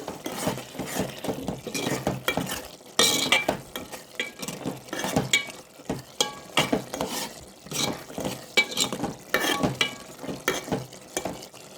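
A spoon scrapes and stirs a ridge gourd and chana dal curry with chilli powder in a pan, making a steady run of close scraping strokes over a soft sizzle, with occasional metallic clinks and no talk.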